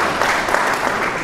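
A congregation at a church gathering claps in a dense, loud burst of applause lasting just over a second before cutting off.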